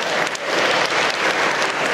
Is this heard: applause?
yes